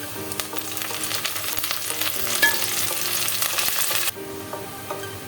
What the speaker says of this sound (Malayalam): പച്ചമുളകും കറിവേപ്പിലയും ചേർത്ത് കൊടുക്കാം